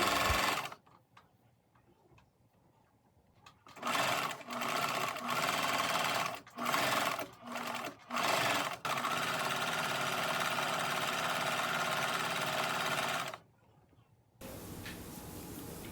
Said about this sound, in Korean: 가장자리를 따라서 두 줄로 박음질을 해서 허리끈을 만들어 놓습니다